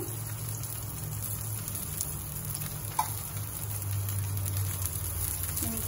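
Rava dosa batter sizzles in hot oil on a pan, a steady, faint crackling hiss with fine popping that runs throughout without any talking.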